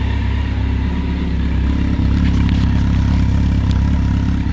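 A vehicle engine idles steadily with a deep, rumbling exhaust note, loud and close, holding an even throb without notable revving.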